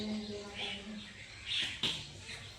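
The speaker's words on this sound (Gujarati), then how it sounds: "પક્ષીઓ બોલે છે." Birds chirp and call on a rainy-season morning outside a rural home, short bright bursts rising and falling at moderate distance, with a few louder chirps near the end over low background noise and faint voices.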